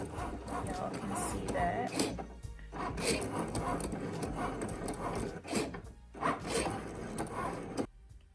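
Cricut Maker cutting machine cutting an intricate flower shape, a continuous close mechanical whirring with quick zipping carriage moves back and forth, and a person speaking briefly over it.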